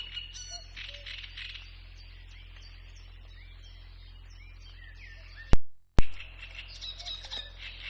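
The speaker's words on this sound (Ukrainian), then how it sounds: "Скрипить очеретянка, підспівує її дріст і десь далеко ледь чути зозулю" A reed warbler's busy, scratchy song chatters continuously from reeds, with a faint cuckoo call far off in the background and two sharp clicks near the end.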